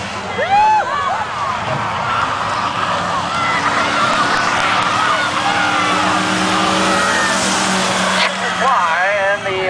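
Race cars circling the track at Hudson Speedway, a steady roar of engines with some revving and passing drones throughout, and an announcer talking over the engine noise.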